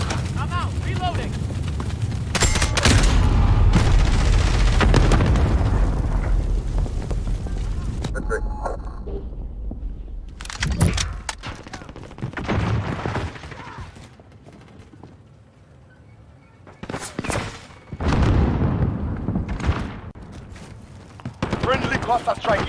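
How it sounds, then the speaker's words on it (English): Video game combat with bursts of gunfire and heavy blasts from a cluster strike, loud dense stretches broken by quieter gaps, with a voice speaking over parts of it. "cluster strike inbound. I'm taking fire!"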